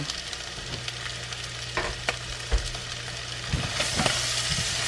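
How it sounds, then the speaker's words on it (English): Onions and green peppers sizzling in a pot for red beans and rice, a continuous close frying crackle with a low hum beneath and a few soft clunks of stirring, no voices. "I'm just going to add my onions and my green peppers for now"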